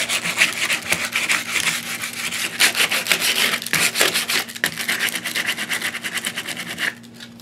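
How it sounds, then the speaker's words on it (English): Steady, rhythmic scratchy strokes of sandpaper rubbing against painted wood, distressing the raised areas, close and continuous for several seconds before stopping abruptly. "I'm letting the areas of high relief in here catch the sandpaper"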